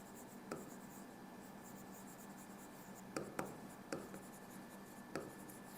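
Quiet pen-on-paper scratching as notes on induction laws are written down, soft continuous strokes with several sharper taps and flicks, faint and close, no talking.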